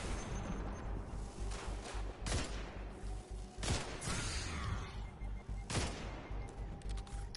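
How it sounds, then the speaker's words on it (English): Gunfire in the video game Destiny 2 crackles through a dense, busy mix of game sound, with several heavy shots standing out at irregular intervals. "Maybe I should aim before I shoot, right?"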